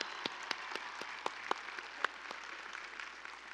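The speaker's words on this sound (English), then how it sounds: "They deserve a big round of applause." Faint, distant applause from a large outdoor crowd at a university spring commencement ceremony, a soft continuous patter with a few louder individual claps standing out.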